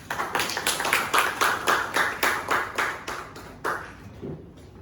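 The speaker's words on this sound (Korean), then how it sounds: "큰 박수로 환영해 주시기 바랍니다" A seminar audience at a joint policy research seminar claps in welcome, a brief burst of distinct, closely spaced hand claps that thins out and fades over about four seconds.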